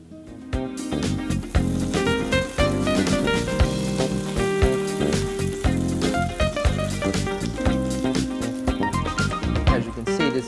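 Pancakes fry in melted lard with a steady sizzle, crackling and spitting close up, and bright clattering noises come and go on top.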